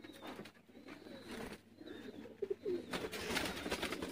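Sialkoti pigeons coo in short, soft throaty bursts against a low background hiss, fairly close and moderately quiet, with no speech.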